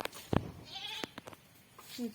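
Goats bleat while feeding outdoors, a few short nearby calls amid rustling and faint background voices.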